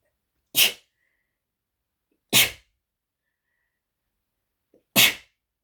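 Three loud, sharp sneezes from a woman, each a single burst, evenly spaced about two seconds apart with silence in between.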